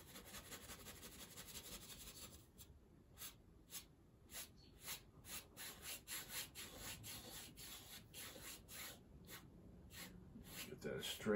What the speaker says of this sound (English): You can see I'm just scrubbing it in.